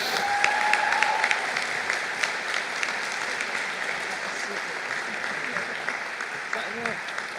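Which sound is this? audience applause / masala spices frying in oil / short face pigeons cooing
audience applause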